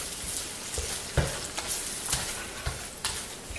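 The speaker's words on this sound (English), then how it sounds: "we just fry it until it's all completely gone." Vegetable fried rice stir-fries in a pan under a spatula, a steady sizzle punctuated by repeated scraping and tapping strokes, close and continuous with no talking.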